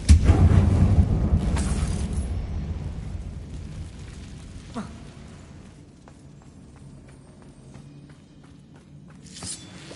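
A heavy Confringo blast in Hogwarts Legacy, set in a closed-off mine, opens with a loud booming explosion that rumbles and decays over several seconds, then a smaller crack and scattered debris ticks follow in the quieter aftermath.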